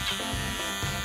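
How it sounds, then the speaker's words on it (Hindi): Small electric trimmer shaving off a moustache, a close, steady buzzing hum with a few brief dips and swells as it moves over the hair. "कितना छोटा ट्रिमर है। मुझे इसकी ही जरूरत थी। अलविदा मूंछों।"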